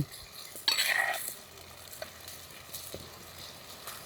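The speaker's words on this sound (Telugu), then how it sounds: "ఉల్లిపాయలు మాడిపోకుండా ఈ విధంగా తిప్పుకుంటూ వేపుకోవాలండి" Onions frying in oil in a pan for Andhra-style fish curry, stirred now and then: a burst of sizzle early on fades into a quieter steady crackle, with faint utensil scrapes and no talk.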